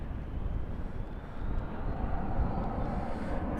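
An American Airlines Boeing 777-300ER climbs away after takeoff at night at Dallas/Fort Worth airport, a steady low jet roar rising slightly in loudness, heard from a distance with no voices.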